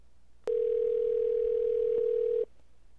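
A steady, unbroken telephone dial tone sounds loud and alone for about two seconds on a call to Geek Squad, then cuts off abruptly.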